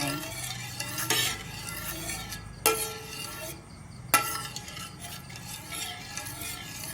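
Coconut cream being stir-fried with curry paste in a pan, a continuous close sizzle broken by several sharp scraping strokes of a spatula against the pan.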